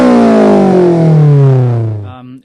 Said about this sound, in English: It's a very, very distinctive sound when it switches over onto the high cam.